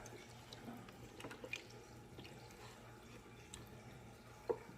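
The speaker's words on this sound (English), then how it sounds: "Just wanna add a little bit of water down in there." Water trickles and drips into a pot while chicken Alfredo is prepared, a faint, steady splashing that stays quiet and close throughout.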